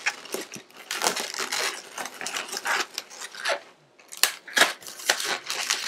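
A latex balloon being twisted and tied into a minion figure, producing close, repeated squeaky rubbing and stretching bursts in an irregular rhythm, with short pauses between twists.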